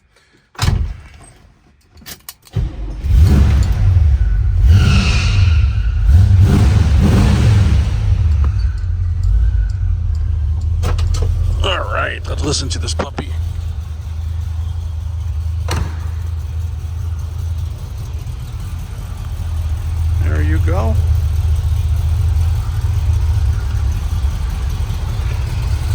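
A car door thuds and keys rattle, then a 1972 Chevrolet Nova's V8 engine cranks, catches and settles into a steady, loud rumbling idle while someone speaks briefly.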